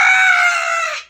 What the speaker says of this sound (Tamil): அது கோழி.